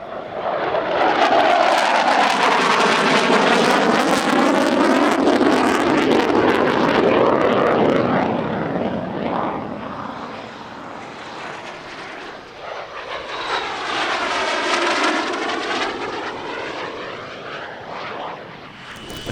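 A Panavia Tornado military jet roars past at an airshow, a loud sweeping jet howl that swells, fades, then surges again in a second pass with shifting pitch.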